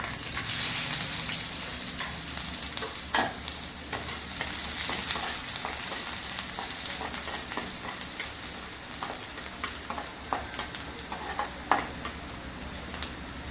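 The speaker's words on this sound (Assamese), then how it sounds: "এইখিনি অলপমান ৰঙচুৱা হোৱাকৈ ভাজিম।" Finely chopped onion with a few curry leaves frying in a kadai over low flame: a continuous close sizzle, broken by scraping stirs and occasional sharper crackles throughout.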